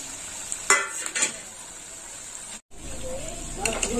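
Bottle gourd pakoras fry in oil with a soft continuous sizzle, broken by a few clinks of a utensil against the pan and a brief dropout partway through.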